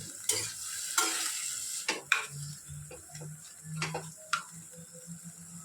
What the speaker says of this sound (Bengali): একটুখানি এটা নাড়াচাড়া করে